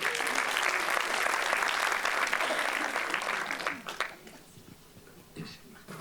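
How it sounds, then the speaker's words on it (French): Loud, sustained applause from a crowd, fading noticeably near the end, with a few scattered claps trailing off. "On va poursuivre en accueillant, s'il vous plaît, sous vos applaudissements, Monsieur Johan Le Courrieu"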